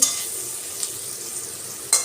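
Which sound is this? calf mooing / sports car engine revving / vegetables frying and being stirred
vegetables frying and being stirred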